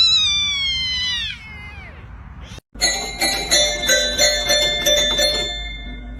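A cat gives a loud, drawn-out meow, then a short pause, then a run of rhythmic ringing bell tones takes over, close and clear.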